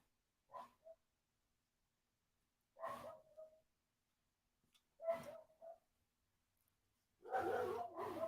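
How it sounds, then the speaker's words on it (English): Small dogs, one a little terrier-type, bark at each other indoors in short separate bursts with long pauses between, the final volley louder and more frantic, with a few yips among the barks. "the dogs are barking. They're barking at each other."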